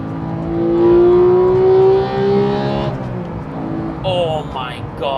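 A GT3 sports car engine climbs to a high-pitched, screaming 9,000 RPM, then drops as the gear shifts into fourth with a rev match, with a voice speaking over it near the end.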